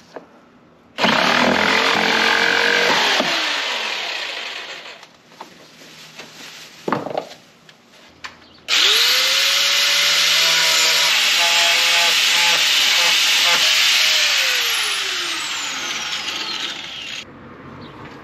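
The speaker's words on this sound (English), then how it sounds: "I'll get the wood off and then take the grinder to it" A grinder cuts through fiberglass van flares on a camper van conversion, two long loud whining bursts with a falling pitch trail, separated by a short gap holding a few sharp knocks.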